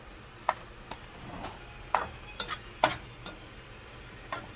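Lentils stirred in a pot with a spoon, giving faint scattered scrapes and taps against the pot amid a quiet background sizzle, with no talking.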